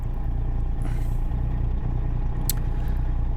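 A Kenworth truck's engine rumbles at a steady low idle in a driving game, carrying a 26-ton load, with a brief hiss of air partway through.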